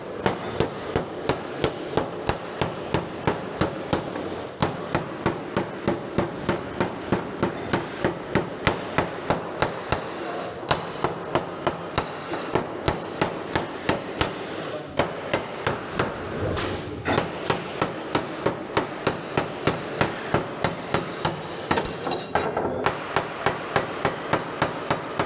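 Hammer striking insulation cladding in a workshop, a fast, steady series of sharp metallic blows that continues with barely a break, close and loud.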